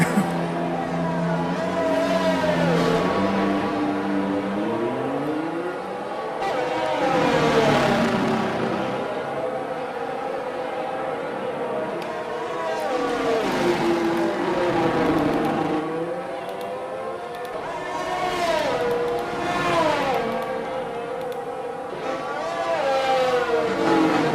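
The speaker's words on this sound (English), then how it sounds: "Now Alex is accelerating on the main straight, finishing his warm-up lap." Racing-game race car on a warm-up lap at Brazil, engine rising and falling through repeated acceleration and gear changes, a steady mid-level whine with swelling passes, no talk.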